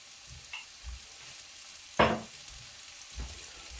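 Garlic cloves and spring onions cook in a pan for a tofu and shrimp sauté, a faint sizzle under a few soft stirring scrapes and one sharper clink of a utensil against the pan.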